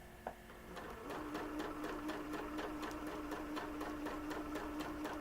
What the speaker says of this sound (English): Let me just get this one seam done.